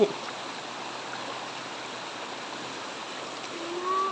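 A soft, steady rush of flowing water runs throughout, faint and continuous like a small stream nearby.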